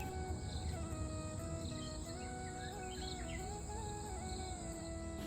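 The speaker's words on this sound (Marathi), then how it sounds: "पक्ष्यांचे किती छान किलबिलाट ऐकू येते" Faint insects and birds chirp in a village countryside setting, a soft continuous trill of crickets with scattered, thin bird calls and tweets layered over a quiet, steady background hum.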